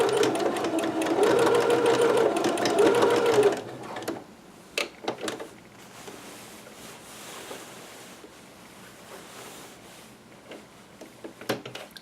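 A sewing machine stitches a dress seam on a McCall's M6701 pattern in a steady, close whirring run for a few seconds, then stops. Scattered light clicks and handling noises follow in the quieter stretch.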